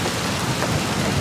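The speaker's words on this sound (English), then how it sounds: "It's the rain on the windshield." Rain drums on a car windshield, a dense steady patter heard from inside the vehicle, close and continuous with no talk.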